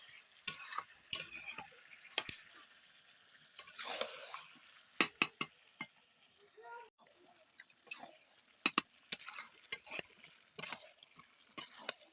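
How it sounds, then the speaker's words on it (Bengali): Chicken meat stirred and fried in a pan at home, with a utensil scraping and clinking against the pan in irregular bursts over a faint sizzle; moderately quiet and close. "আমি এখন দেখো ভালোভাবে নাড়াচাড়া করে মাংসটাকে এপির এপিট ভেজে নিচ্ছি ভালোভাবে কষিয়ে নিচ্ছি"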